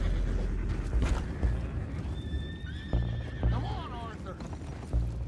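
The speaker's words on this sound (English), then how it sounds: "I have the horses under control." In Red Dead Redemption 2, horses whinny and their hooves clip-clop steadily. Game voices speak over the sound and a whinny stands out clearly midway.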